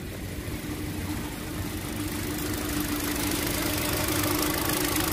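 A car engine with a misfire idles close by, a steady low rumble with a slightly uneven, knocking pulse that grows a little louder, with no talk.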